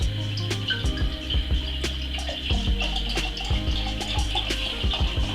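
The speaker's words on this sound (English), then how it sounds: "Let's pour some out." Rye bread kvass poured from a bottle into a glass, a close, gurgling liquid stream with intermittent glugs and splashes over several seconds amid a faint background hum.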